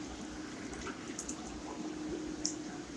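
Clean water trickles into a bucket of radish microgreens grown indoors, a soft continuous pour with a few small splashy drips, fairly quiet and steady throughout.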